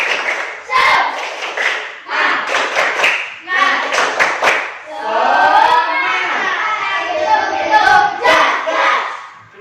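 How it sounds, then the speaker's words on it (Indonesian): A classroom of students claps together in a quick rhythmic pattern of bursts, then ends with a loud shared cheer, close and lively. "Satu kali tepuk semangat."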